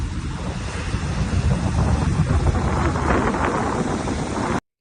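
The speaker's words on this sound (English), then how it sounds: "the pretty massive waves washing away the beach" Massive ocean waves wash onto a beach in hurricane weather, a loud continuous roar of surf mixed with heavy wind buffeting the microphone, with no talk.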